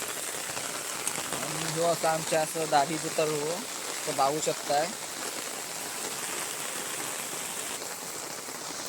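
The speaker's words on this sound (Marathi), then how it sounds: "पाऊस तर मोठं पडलो" Heavy rain pours in a steady wash after a big downpour in which water has pooled, an even hiss running throughout while someone talks briefly partway through.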